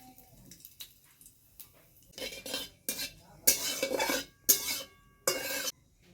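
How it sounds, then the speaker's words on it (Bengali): Bay leaf, dried red chilli and panch phoron tempering in hot mustard oil in a pan, several separate loud bursts of crackling sizzle with quieter scraping and clinking in between. "তেল আমার গরম হয়ে গেছে, তো এখন আমি ফোড়ন দেব।"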